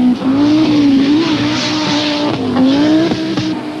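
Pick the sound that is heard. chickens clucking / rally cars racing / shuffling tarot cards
rally cars racing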